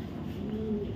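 Racing pigeons in a loft give a single low, rolling coo that swells midway through a brief moment, close and clear over faint background rustle.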